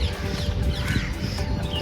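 Crows caw around a water tank in a city garden where birds gather to drink, harsh calls scattered over steady outdoor ambience and rumbling background noise.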